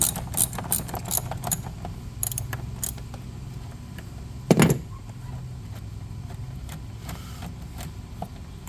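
A ratchet loosening 10 mm bolts on a Mitsubishi Mirage air box, with quick clicking bursts close by, a sharp metallic clunk midway, then fainter intermittent clicks.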